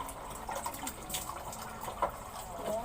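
Steady shower water runs and splashes continuously during bathing, a soft even hiss with occasional drips, close and moderately quiet throughout.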